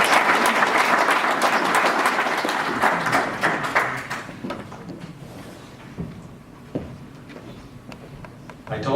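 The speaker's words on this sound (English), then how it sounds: "So round of applause to Colonel Crum." An audience at an evening tribute event bursts into loud, sustained applause that thins out after a few seconds into scattered claps and room murmur.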